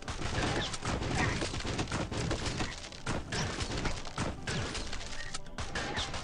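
Dense, continuous bursts of rapid gunfire rattle nonstop in the video game Swamp Attack 2, with crashing impacts layered throughout, loud and close.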